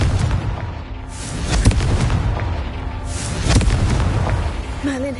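A Confringo explosion spell in Hogwarts Legacy on PS5 erupts in booming, crackling blasts, loud and dense, with two sharper hits standing out amid a continuous rumbling roar.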